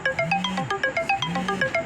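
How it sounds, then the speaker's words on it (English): A looping phone alarm tone repeats in short melodic bursts, with rising and falling pitches, fairly loud and steady, with no voices. "that's my alarm to work out"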